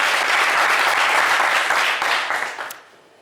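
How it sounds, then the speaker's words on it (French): A French TV game show studio audience applauds a contestant: full, even applause that holds steady, then thins and fades out near the end. "Eh bien écoutez Stéphane, pas mal du tout, on vous applaudit également."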